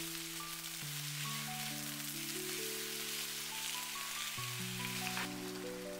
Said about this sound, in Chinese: 快速的翻炒均勻， 把山藥提前炒一下